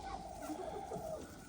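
Chickens cluck softly in a snowy farmyard during animal chores, a faint, steady scatter of short calls.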